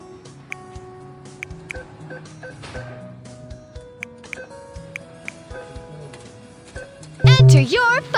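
Keypad beeps as a phone number is entered at a virtual bank ATM in a video game, a string of short, separate tones followed by a louder burst of sound at the end.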